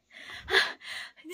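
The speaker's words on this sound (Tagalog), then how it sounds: "Hinihingal ako." A pregnant woman panting out of breath in a few quick, close, breathy gasps with short pauses between them, quiet and alone with no talk.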